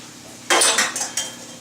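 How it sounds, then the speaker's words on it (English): Hot rigatoni pasta poured from a pot into a metal strainer, a short burst of splashing water and clattering metal lasting about a second, close and loud. "And I'm going to dump it in my strainer."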